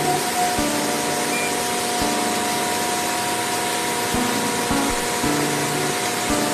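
Factory machine running inside a workplace in South Korea; a loud, steady mechanical drone with a high whine, broken by repeated sharp knocks and clunks at an irregular rhythm, close by and without talk.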